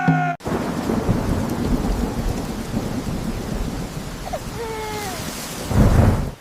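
Heavy rain pours steadily outdoors with a rumble of thunder swelling near the end, loud and close, with faint chirping calls partway through.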